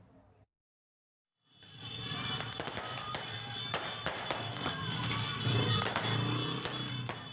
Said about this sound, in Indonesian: berkonvoi sambil meletuskan petasan di Jalan Raya Cilengsi, Jonggol